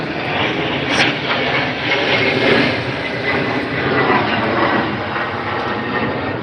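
A fixed-wing airplane drones overhead, a steady, loud broadband engine roar that stays continuous and even throughout, with no voices over it.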